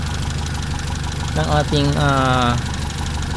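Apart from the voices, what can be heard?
car engine running during spark plug test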